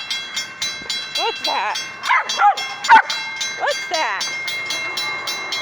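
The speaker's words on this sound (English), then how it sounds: "Oh, the train is on your left." A passing train rumbles steadily throughout, with a small dog whining and yelping excitedly over it and a person speaking nearby.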